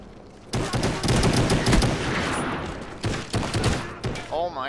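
Rapid automatic gunfire in the video game Call of Duty: Black Ops during an online wager match, dense sustained bursts that break off briefly and resume, loud and close, with a player's voice breaking in near the end.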